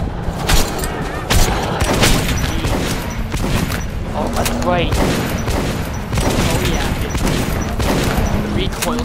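Bursts of automatic gunfire with heavy recoil in Metro 2033 Redux, sharp repeated reports and rattling volleys close by, with voices talking over and between the shots.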